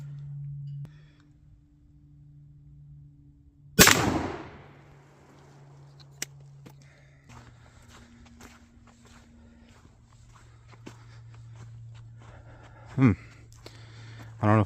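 A 12 gauge shotgun with a full choke fires 00 buckshot once during a patterning test: one sharp, loud blast with a short decaying tail. Later come a couple of softer knocks, and people talk quietly around it.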